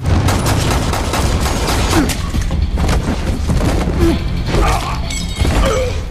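Gunshots and heavy impacts from a film fight scene where a man shoots two enemies with a few bullets, a loud dense barrage of shots, booms and crashes layered over a dramatic soundtrack.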